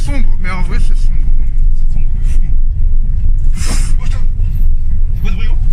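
Fiat Punto driving on a broken-up rough private country road, steady loud engine rumble with scraping and knocking from the underside, while people talk over it.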